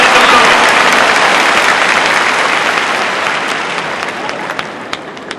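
A big crowd at a charity tennis exhibition claps loudly and steadily, the applause slowly thinning toward the end with a few sharper individual claps standing out.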